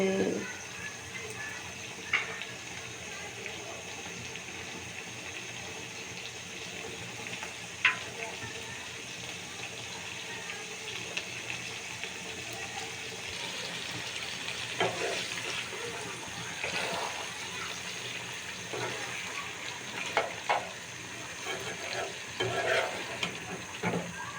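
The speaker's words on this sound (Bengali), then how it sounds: "এই দেখো তেল কি সুন্দর উতরাচ্ছে" Oil bubbles and sizzles steadily in a pan for paratha breakfast, a continuous crackling hiss with occasional louder pops and faint background talk.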